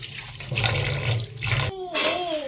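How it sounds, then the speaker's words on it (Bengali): Groceries being washed under a running tap, with steady splashing water through most of the stretch, a brief break, then more flowing and trickling water with some faint ringing tones. "এখন পরিষ্কার করে ধুয়ে নিই ভালো করে পরিষ্কার করে"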